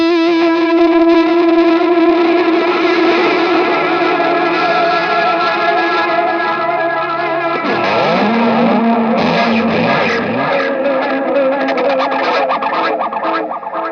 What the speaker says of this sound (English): a woolly fuzz out thing happening at the end of a song, I could have some delays going